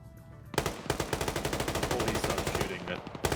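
Automatic gunfire in an online PvP shooter: a rapid, loud, close burst of evenly spaced shots runs for nearly three seconds, stops briefly, then resumes with a final shot.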